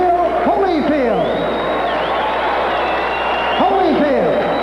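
A boxing arena crowd applauds and cheers steadily after a knockout in a cruiserweight championship fight, broad and continuous, while an announcer's amplified voice carries over it.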